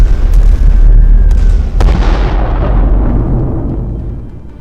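A huge, deep nuclear bomb explosion roars out with a booming low rumble and sharp crackling bursts, then slowly fades into a long, distant rolling decay.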